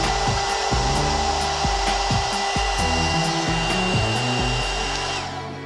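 A hot air brush hair straightener with built-in blower runs steadily up close, a loud whirring fan whine with a shifting motor tone that fades slightly at the end, with no talking.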